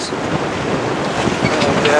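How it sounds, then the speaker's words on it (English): Wind blowing across a sailing boat at sea off Carmel Head, a loud, steady rush of air buffeting close with a broad hiss and faint water wash beneath, no voices. "The wind's just come up to about 4-6 or so."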